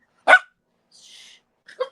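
A dog barks once, sharp and fairly close, in an otherwise quiet room, followed by a faint rustle and a short second yip or whine.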